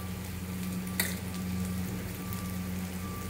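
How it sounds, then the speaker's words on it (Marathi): Malvani masala, garam masala, turmeric, chilli and coriander powders fry in a little oil for valache birde, producing a steady, soft sizzle close by. One brief clink of a utensil sounds partway through. "आता हे मसाले थोडे तेलामध्ये आपण परतून घेऊ"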